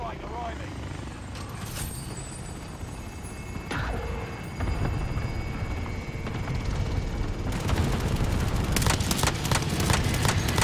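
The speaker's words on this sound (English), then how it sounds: "Enemy attack chopper is in the AO" An enemy attack helicopter in a video game roars steadily, its broadband rotor and engine noise growing louder over the clip, with gunfire-like bursts near the end and people talking over it.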